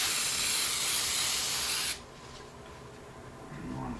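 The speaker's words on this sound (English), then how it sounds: "I'm going to spray it on the rag" Brake parts cleaner sprayed from an aerosol can onto a rag for LS engine work, a loud steady hiss lasting about two seconds before cutting off, leaving quieter shop background.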